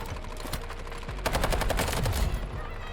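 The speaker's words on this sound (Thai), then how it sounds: "อย่ากูก็ยิงไม่พักเลยเว้ย" Rapid automatic fire from a QBZ95-1 rifle in the shooter game Delta Force: close, loud, evenly spaced shots in a steady stream that thickens into a denser burst midway, over low rumbling background.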